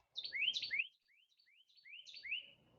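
A northern cardinal sings in a backyard, giving a run of clear, rising whistled slurs, loud and close at first, then softer repeated phrases after a brief pause.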